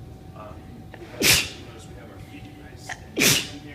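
A man in a neuro rehab transfer session sneezes twice in quick succession, each a sharp, fairly loud burst close by, while a therapist speaks calmly between them.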